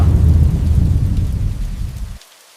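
Heavy rain with a deep rolling rumble of thunder, loud and close, fading slightly before cutting off abruptly near the end, no voices.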